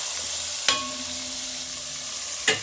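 Curry corned beef with green seasoning sizzles steadily in a pot, Jamaican style, while a spoon stirs it, with two sharp scrapes of the utensil against the pan standing out over the continuous frying hiss.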